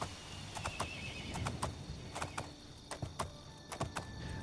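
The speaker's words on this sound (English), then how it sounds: "There are so many horses here." Horses in the video game Oblivion clop repeatedly on hard ground at a moderate distance, an irregular scatter of hoof strikes over a quiet background.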